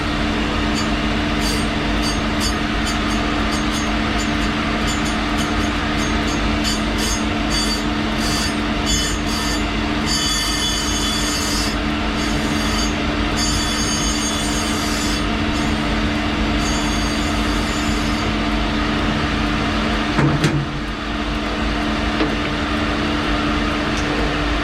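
A skate sharpening machine set to a 3/8 grind radius runs steadily with a loud, continuous mechanical hum and grinding whine, with a brief scraping touch near the end and no talking.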